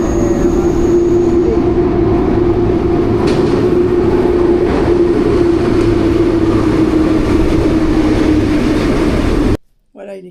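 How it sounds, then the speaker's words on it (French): A Paris RER commuter train rumbles loudly and steadily with a sustained low hum and rail roar, close and continuous for about ten seconds before cutting off abruptly. "Voilà le RER."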